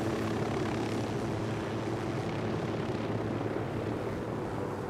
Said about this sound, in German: Oh, da ist ein Heli.